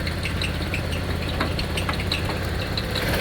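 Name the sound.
car engine idling roughly, shaking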